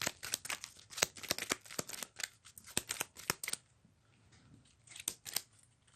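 A deck of game cards is riffled and shuffled at close range, with crisp rapid bursts of snapping card edges in several quick runs and short pauses between them, no talking.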